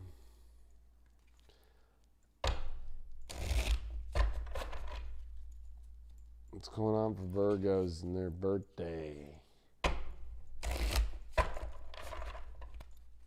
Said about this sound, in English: These cards shuffle so much better.